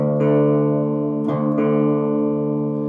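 Two sustained, slightly out-of-tune guitar strings ringing together, their pitches clashing into slow wavering beats; a soft pluck re-strikes the strings partway through.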